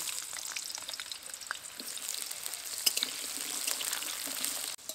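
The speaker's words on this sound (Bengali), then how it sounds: "আলুগুলোকে একেবারে লাল লাল করে ভেজে নিয়েছি" Cut potatoes frying in mustard oil in a kadai give a steady, close sizzle with crackling spits and a few soft clinks, continuing evenly throughout with no talking.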